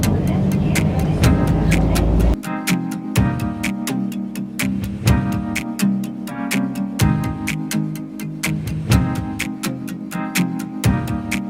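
Engine drone and road rumble heard from inside a moving bus in Norway, a loud steady hum with rhythmic clicking ticks throughout and brief shifts in engine pitch.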